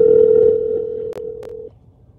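A single steady telephone tone sounds on a call waiting for an answer, broken by two brief clicks before it cuts off, leaving near silence.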